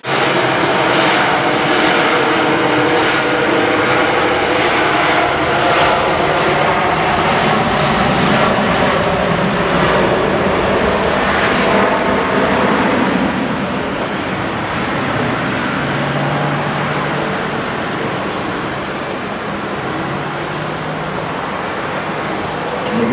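A Qatar Boeing 787 jet airliner roars through a flying display at the Farnborough airshow, a loud sustained engine rush that slowly shifts in pitch and fades slightly as the aircraft passes.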